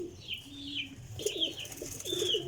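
Golden pigeons coo in low, repeated rolling calls close by, with a few brighter chirps and steady background noise and no talking.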